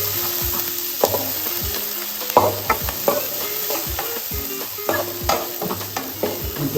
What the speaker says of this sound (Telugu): బాగా కలుపుకొని గోల్డెన్ బ్రౌన్ కలర్ వచ్చే వరకు బాగా కలుపుకుందాం.